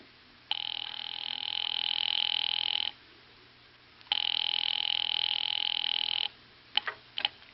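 A telephone rings twice in long electric bursts, each about two and a half seconds, with a pause between, then brief clicks as it stops; a radio-drama sound effect heard alone, no talking.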